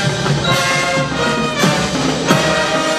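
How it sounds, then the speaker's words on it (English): A brass band plays loudly and continuously, sustained harmonic chords with a few accented beats marking the rhythm. "here is the sound of brass band."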